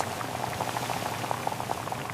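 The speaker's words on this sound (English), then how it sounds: "I am cooking rice." Water boiling with rice cooking in a pot, a dense steady bubbling and rolling simmer with small pops, close and constant, no speech.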